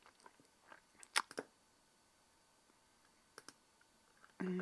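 A computer mouse clicks through a website in a few sharp, close, isolated clicks spaced across quiet moments, with a brief louder burst at the end.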